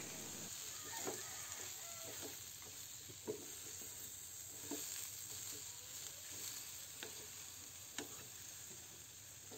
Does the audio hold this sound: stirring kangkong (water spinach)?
yes